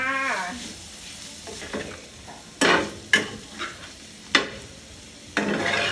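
Fish and shrimp stir-fried in a large wok hiss and sizzle, with a spatula clattering and scraping in several sharp bursts over a steady crackle of hot oil.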